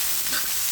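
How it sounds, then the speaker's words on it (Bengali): Onion and green chili frying with radish in a pan, a steady, even sizzle heard close up for under a second. "এখন কিন্তু এটা আমি নেড়ে চেড়ে একটু জালটা বাড়িয়ে পেঁয়াজ মরিচটা ভেজে নেব"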